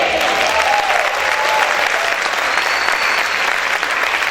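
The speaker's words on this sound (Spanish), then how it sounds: "pueden gritar y aplaudir fuerte al Señor." A congregation applauds loudly and continuously, a dense, even wash of clapping that fills the whole stretch with no pauses.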